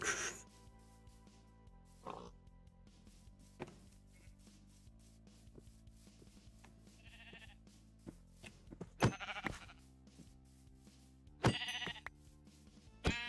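Minecraft sheep bleat a few times in a quiet game scene, short wavering calls scattered among soft rustles and clicks, with no talking.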